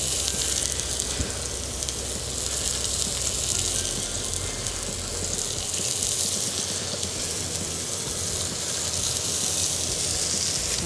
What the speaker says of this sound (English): Oil to that pan, do a little scallop appetizer here.